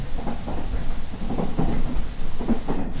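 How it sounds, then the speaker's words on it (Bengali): Heavy rain falls at a countryside railway station at night, a dense, loud rushing roar with low rumbling swells like thunder, steady throughout as a cartoon sound effect with no voices. "হঠাৎ স্টেশনে নামার পরে ঝমঝমে বৃষ্টি নামল"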